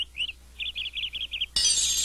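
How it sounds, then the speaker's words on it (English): Cartoon birds chirp in a quick run of bright, repeated tweets against a quiet background, followed by a sudden burst of sparkling, glassy noise. "Hello there, birds."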